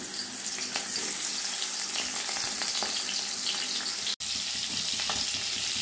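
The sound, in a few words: frying turmeric-salted sarputi fish in hot mustard oil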